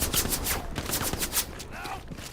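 Scattered gunfire in the military shooter games Antistasi and Hell Let Loose, several sharp shots popping at uneven intervals over a couple of seconds, fairly distant and moderately loud, with a voice talking over them.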